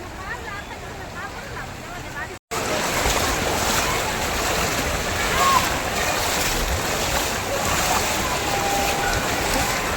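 Monsoon floodwater rushes along a fully flooded road in Virar East, Palghar, making a loud, continuous close-up roar of water. A voice speaks briefly before the sound cuts in.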